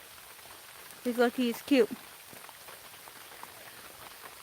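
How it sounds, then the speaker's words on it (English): Heavy outdoor rain patters steadily throughout, a constant hiss of drops on surfaces, while a person briefly speaks over it near the middle. "Okay, it's starting to rain like crazy,"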